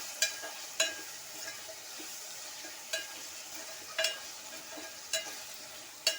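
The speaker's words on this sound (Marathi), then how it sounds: "हे सर्व तेलामध्ये छान असं परतून घेते" Eggplant and potato being sautéed in oil for dal khichadi, a soft, low sizzle punctuated by about seven crisp clicks of a utensil stirring against the pan.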